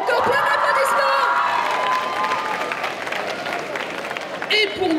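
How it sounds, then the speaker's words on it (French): Audience applauding and cheering at a cosplay parade on stage at a geek convention, a dense, sustained wash of clapping with whoops and shouts, loud and steady throughout, swelling briefly near the end. "Encore plein d'applaudissements."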